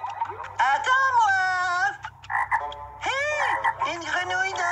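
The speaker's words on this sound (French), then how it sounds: "Une grenouille dans une bulle." A cartoon frog trapped inside a bubble croaks in loud, warbling bursts, with two long croaks separated by short choppy sounds.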